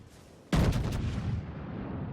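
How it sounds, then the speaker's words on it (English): Scharnhorst's rear turret fires on the Gneisenau in World of Warships, one sudden heavy booming salvo with quick cracking reports, then a long rumbling decay. "I'm using my rear turret to shoot at the Gneisenau"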